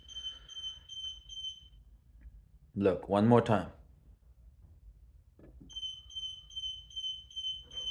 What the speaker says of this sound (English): if I push this button, the light goes off and nothing happens. It just beeps.